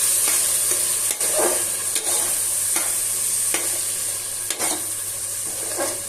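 Tomato paste sizzling steadily in a pan while being stirred for mushroom biryani, with a constant close frying hiss broken by regular scraping strokes of a spoon, no talking.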